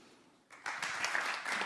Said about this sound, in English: a big round of applause for Pavel, please